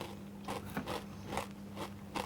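Repeated crunchy bites into a chocolate almond rock cookie, about five crisp crunches at a steady rhythm, close up with no talk.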